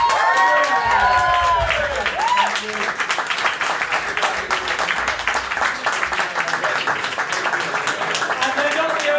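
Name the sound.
audience applause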